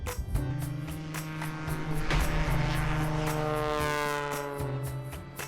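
A light aircraft's propeller engine drones steadily during a three-point takeoff with maximum-lift flaps, a strong harmonic hum that swells slightly through the middle and holds throughout, with no talking.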